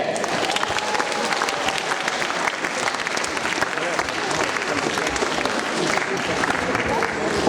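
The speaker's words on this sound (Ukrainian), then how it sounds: "а тим часом оплески, оплески!" Dense audience applause fills the hall at an event, continuous and loud from start to finish, with crowd noise mixed into the clapping.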